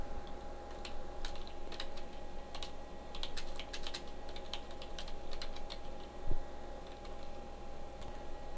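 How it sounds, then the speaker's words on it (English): Rapid typing on a computer keyboard, with irregular clusters of light clicks running steadily throughout over a constant low hum, one slightly louder thump near the end. "I'm going to start by typing a heading tag."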